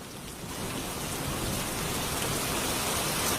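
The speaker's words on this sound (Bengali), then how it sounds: "এই ঝড় বৃষ্টির দিনে আমার বাড়িতে তা কি মনে করে এলি শুনি?" A cartoon thunderstorm brings a loud, unbroken downpour of heavy rain with a low rumbling undertone, swelling slightly as it continues, and no voices.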